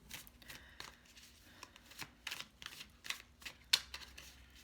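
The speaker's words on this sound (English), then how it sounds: "use a good shuffle" Playing cards being shuffled during a tarot reading, a quiet irregular series of soft riffling flutters and taps with brief pauses between bursts, close and alone.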